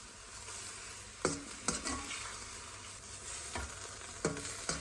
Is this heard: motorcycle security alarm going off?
no